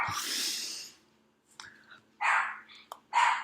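A dog barks a few times in short separated bursts after an opening rush of noise, fairly close but modest in level, with some breathy sounds between barks.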